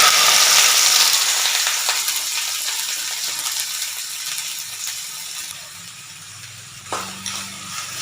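Cut okra dropped into hot oil for a lady's finger poriyal sizzles loudly at first, a bright hissing fry that gradually settles and softens, with a clack of a utensil near the end and no talk.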